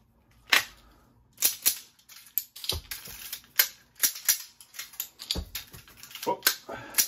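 A revolver speed reload drill produces a string of sharp metallic clicks and clacks, with cylinder snaps and cartridges knocking, in an irregular close rhythm throughout.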